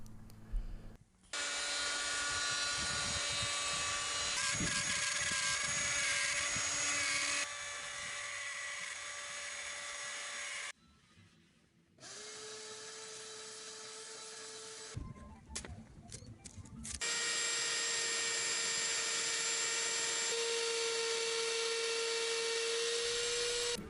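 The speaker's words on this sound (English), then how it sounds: "Now I'm just going to take the router with a short template bit on it and slowly take out material to form the neck pocket." A router fitted with a short template bit whines loudly while cutting a neck pocket and pickup cavities in MDF for a guitar built from colored pencils, running in long sustained bursts separated by brief pauses.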